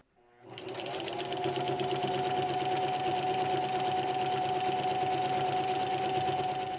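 A sewing machine stitches quilt fabric, starting up after a brief silence and then running at a steady, fast, even hum with a rapid mechanical rhythm, close and alone.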